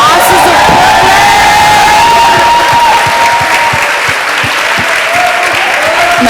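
A crowd at a Brooklyn Museum community event claps and cheers loudly and continuously, with whoops and shouts rising over dense applause that holds steady throughout.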